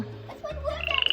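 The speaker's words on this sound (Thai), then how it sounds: "มาดูกบฝรั่งกันได้นะคะ กบสีทองค่ะ" A golden frog croaking close by in a short, soft burst of pulsing croaks that quicken toward the end.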